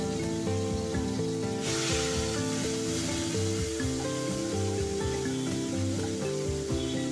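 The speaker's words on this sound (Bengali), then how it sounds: "এরপর কড়াইতে 3-4 চামচ সর্ষের তেল দিয়ে চিংড়ি মাছগুলো ভেজে নিয়েছে" Shrimp fry in mustard oil in a wok, with a dense, continuous sizzle running throughout, but it sits under a loud, steady layer of music.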